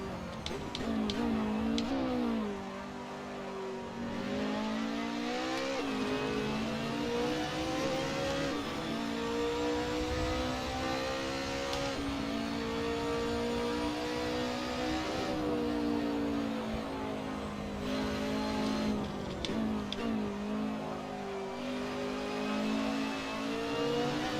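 A touring race car on the Portimao circuit in the Assetto Corsa video game revs hard and steadily through a lap, its engine tone rising and dropping with gear changes, loud and continuous.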